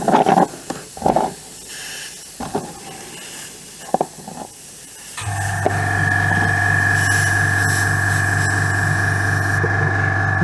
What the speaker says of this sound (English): Waiting for the compressor to stop.